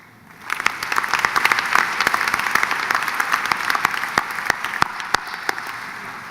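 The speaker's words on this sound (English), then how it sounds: "I'd like you all to join me in giving one more round of applause for Alana" A room full of people at a college commencement ceremony claps steadily for several seconds, the applause swelling quickly and then holding at an even, lively level.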